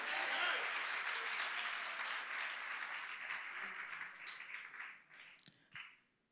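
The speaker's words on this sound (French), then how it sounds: "acclame le Seigneur pour sa parole." A church congregation applauds together, a dense burst of clapping that starts loud and gradually thins and fades out, with a few scattered claps near the end.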